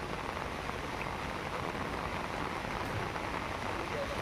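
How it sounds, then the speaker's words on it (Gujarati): Heavy monsoon rain pours down steadily in Thane, a dense, continuous hiss of drops hammering surfaces at close range with no pauses or talk. "થાણેમાં ધોધમાર વરસાદ વરસતા પાણી થઈ ગયું છે।"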